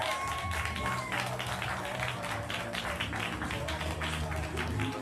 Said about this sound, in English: blow over into applause